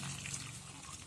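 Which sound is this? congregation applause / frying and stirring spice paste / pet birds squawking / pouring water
pouring water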